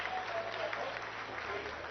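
Sustained applause in the ISRO control room during the Chandrayaan-3 landing, a steady wash of clapping from a crowd that fills the whole moment, with voices talking underneath.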